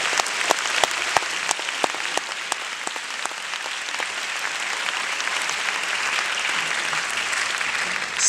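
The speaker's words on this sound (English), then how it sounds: "So please clap for me." A graduation ceremony audience claps for a valedictorian speech: full, lively applause at first that gradually thins and softens toward the end.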